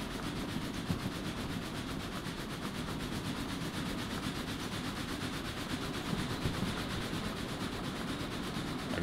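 Freight train rolling along rails in the railway game Derail Valley, a steady continuous rumble with faint rhythmic clatter and rubbing wheel noise, close and even throughout with no talking.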